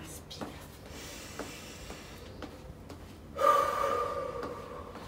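A single deep inhaled breath during a gentle stretching exercise session for seniors, a soft airy draw close to the microphone after some quiet shuffling.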